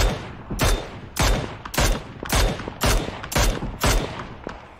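Gunfire in PUBG ranked squad play, rapid bursts from an M416 rifle repeating roughly every half second, loud and close, several sharp volleys in steady rhythm with no talk.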